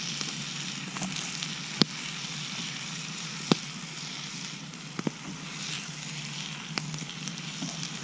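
Bacon frying in a skillet over an outdoor campfire, with a continuous soft sizzle and hiss broken by scattered sharp crackles and pops from the fire, at close range and with no talking.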